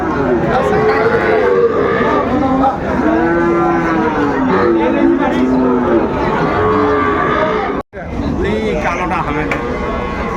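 Sahiwal cattle moo repeatedly in long, drawn-out calls over a busy crowd of chattering voices at a cattle market in Kushtia, with several animals calling close by.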